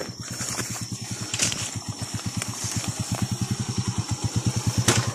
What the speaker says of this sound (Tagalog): So, may motor.